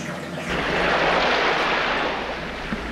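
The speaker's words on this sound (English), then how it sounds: "going to siphon down into the sump, and Jim will start vacuuming away" Aquarium water rushes steadily down a siphon into the sump of a 500-gallon coral reef tank during a 100-gallon water change, a dense continuous gush close by with no talk.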